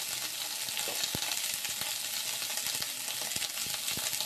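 Beans, potatoes, cauliflower, carrots and coconut fry with turmeric in a pan, sizzling in a dense, steady crackle close up. Sharp pops and clicks break through at intervals.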